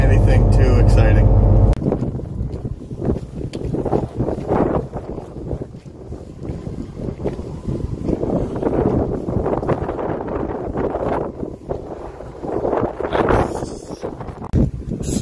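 Loud wind gusts buffet the microphone outdoors beside a flatbed trailer loaded with skids by forklift while it is strapped down, a rough continuous rumble with a voice talking faintly beneath it.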